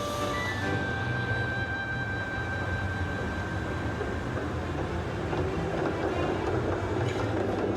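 A streetcar rolls along city tracks under overhead electric wires, giving a steady loud rumble with a brief high squeal at the start, close by and without talk.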